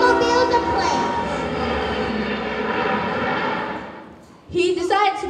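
A fixed-wing airplane engine drones loudly and steadily for about four seconds, then fades as a brief different sound cuts in near the end.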